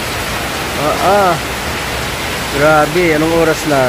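Heavy typhoon rain pours down as a steady broadband hiss throughout, while a person speaks briefly over it twice.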